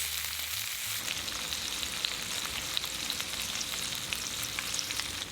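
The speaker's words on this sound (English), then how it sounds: "Add the pork belly. Pan fry until golden brown for about 5 minutes." Pork belly pan-frying in avocado oil, a steady dense sizzle with crackling pops running loud and close throughout, no voices.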